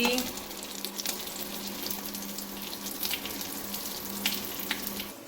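Fish frying in oil in a home kitchen, a continuous near sizzle with scattered crackles and pops rising over it, no voices present.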